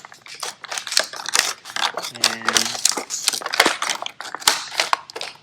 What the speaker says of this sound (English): make sure your scissors are sharp too, otherwise this won't be very fun